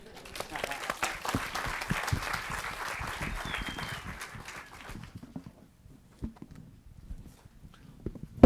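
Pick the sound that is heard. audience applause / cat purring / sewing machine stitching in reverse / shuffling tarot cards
audience applause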